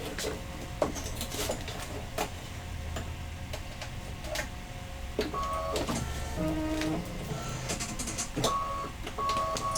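An embroidery machine sewing a satin stitch around a design: rapid regular mechanical ticking and clacking with a steady hum, broken by occasional short electronic beeps.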